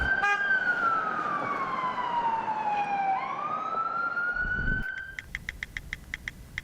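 A wailing emergency siren, likely a police car or fire engine, sweeps down and back up in pitch on a New York street over a steady wash of traffic, then gives way to quick, sharp repeated yelp bursts near the end.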